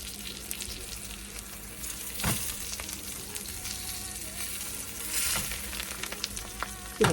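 Lemon pork chops fry in a pan with a steady, moderately loud sizzle. A few louder hissing bursts and scrapes come as the chops are moved, and no one speaks.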